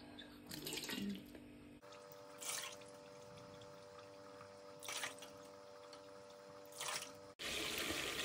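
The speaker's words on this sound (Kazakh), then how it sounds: "Енді үстінен құйып, сүзіп ала беруге болады." Melted horse fat is poured and strained in a few short liquid bursts, separated by quieter stretches over a steady low hum, with a louder pour at the end.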